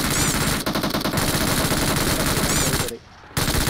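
Rapid automatic gunfire in PUBG Mobile rattles in dense, sustained bursts with a brief pause near the end, loud and close, with faint voices mixed in.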